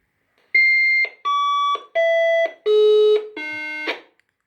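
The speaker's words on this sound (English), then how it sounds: "we can hear all 5 beeps" Five electronic beeps in a row from a lost-model tracker on a Rockwell B7+ RC transmitter, each a steady tone stepping lower in pitch, evenly spaced and fairly loud, with no talking.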